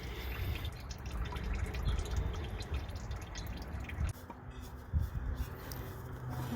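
Engine oil drains from a 2008 Chevrolet Malibu into a drain pan as a close, continuous trickle with scattered drips, and the flow changes character partway through.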